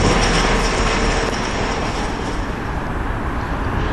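Freight train passing on the Bedford Levels line, a steady loud broadband rumble with rail noise holding for several seconds as the wagons roll by close at hand.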